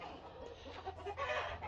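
Chickens cluck softly in a chicken run outdoors, a faint scattered chorus of low clucks at a distance with steady background noise.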